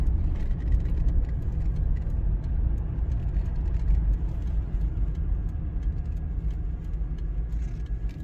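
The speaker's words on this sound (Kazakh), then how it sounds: "Шевролет көріп тұрмын. Осы машина болу керек." A Chevrolet car drives near a rural village livestock-farming area in Kazakhstan, its engine and tyres giving a steady, fairly close low rumble that holds at an even level throughout without talk.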